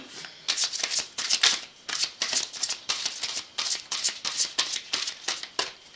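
Crystal oracle cards shuffled by hand at close range, a quick series of rhythmic riffling bursts with no talking.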